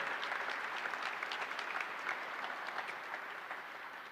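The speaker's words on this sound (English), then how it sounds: "So please give them all a round of applause." An audience applauds at a press conference introducing a new university basketball coach. A dense, even wash of clapping from many hands holds steady at a moderate distance and tapers slightly toward the end.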